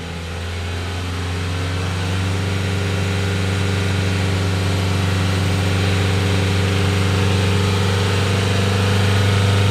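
A car engine is raised to 3,000 rpm during an EGR test, holding a loud, steady hum with a strong low drone that swells slightly and then stays level, close and continuous.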